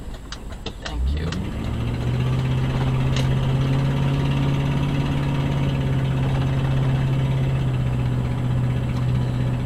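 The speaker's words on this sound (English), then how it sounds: "I know everyone's been complaining about my exhaust." A Honda car engine with a loud aftermarket-sounding exhaust starts up and settles into a steady, close, droning idle on a Bronx street.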